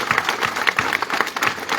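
An audience at a French-speaking festival giant's baptism celebration claps for the giant's godfather, dense rapid clapping that carries through the short moment without talk.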